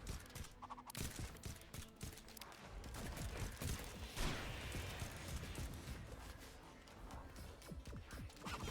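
A video game shotgun fires amid a dense, loud barrage of gunfire blasts and crashing impacts, continuous and chaotic across the whole stretch with no clear pauses.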